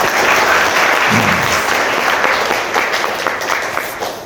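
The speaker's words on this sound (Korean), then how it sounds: "예, 큰 박수 부탁드리겠습니다." Loud, sustained audience applause greets football legend Cha Bum-kun at a Korean football event, a dense wash of clapping filling the whole stretch and thinning slightly toward the end.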